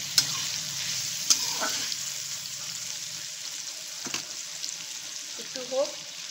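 Biryani ingredients frying in a pan: a steady hiss of sizzling oil throughout, with a few sharp clicks and brief stirring scrapes, the loudest of them near the end.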